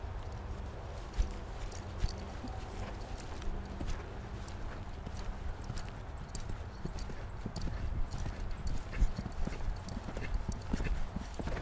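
Horse hooves clip-clop steadily on the ground in an even trotting rhythm during a riding lesson, with background noise and faint French-speaking voices underneath.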